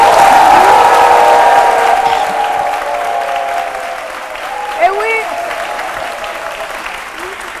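A studio audience on a French midday TV show breaks into loud, sustained applause, which slowly fades while a voice speaks over it.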